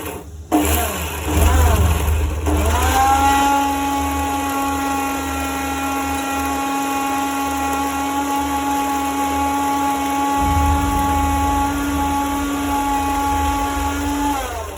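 A 1000-watt Preethi Boltz mixer grinder with a stainless steel jar grinds garlic chutney. After a couple of short bursts it settles into a loud, steady whirring whine that runs on continuously.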